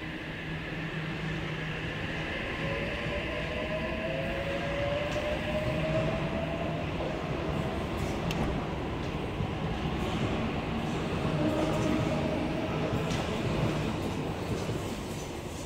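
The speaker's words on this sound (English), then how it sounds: "That was Oscar's H7 and H8 out of platform number 3, and they are going to North Sydney." Sydney Trains Oscar H-set, cars H7 and H8, pulls out of platform 3 at Harris Park station, a steady, loud rolling rumble with faint wheel squeal that carries on throughout without any voices.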